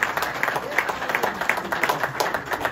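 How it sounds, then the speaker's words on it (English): A church congregation claps together after a sermon, a loose rhythmic clapping at steady moderate loudness with some room murmur. "Let's give God one more hand clap."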